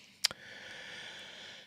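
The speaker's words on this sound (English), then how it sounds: "Apologies for my sniffles." Two quick sniffles close to the mic right at the start, then only a faint steady hiss, with no talking.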